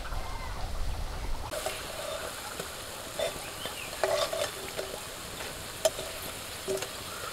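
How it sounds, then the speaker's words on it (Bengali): Fish frying slowly in a pan and being turned over, a steady crackling sizzle with occasional clinks and scrapes of the utensil, close and continuous, with no talking. "উল্টো পাল্টে আস্তে আস্তে ভেজে নিচ্ছি।"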